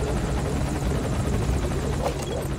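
A helicopter in the video game Metal Gear Solid 5: Ground Zeroes gives a loud, steady rotor roar with a dense, buzzing wash that holds throughout.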